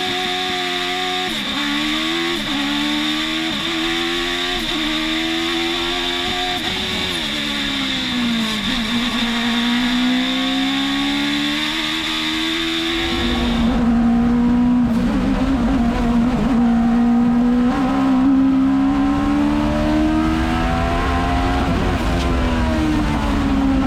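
Hill climb race cars at the Mt. Washington Climb to the Clouds launch from the start line, engines revving hard and rising in pitch through gear changes, loud and close, with a heavier second car roaring in midway.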